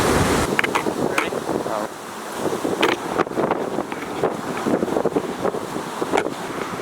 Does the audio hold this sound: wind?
yes